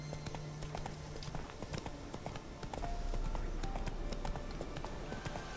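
A horse galloping in The Witcher 3, a steady rapid clip-clop of hooves under low ambient game sound, faint and continuous with a brief tonal game cue, and no voices.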